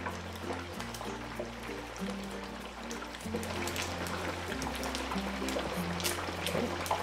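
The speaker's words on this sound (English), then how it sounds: "Splattering quite a bit here." Hot oil sizzles and spatters continuously at close range while deep frying a turkey in butter, a constant crackling hiss layered over a low droning hum.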